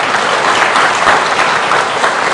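A church congregation at a worship service applauds kitchen volunteers, a dense, even burst of close clapping that fills the room throughout.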